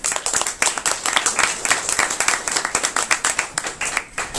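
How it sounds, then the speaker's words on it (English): A room of audience members at a Korean American community candidates night clapping for a candidate, dense rapid hand claps sustained evenly throughout, near and loud. "Can we please welcome Ms. Tan with a warm round of applause?"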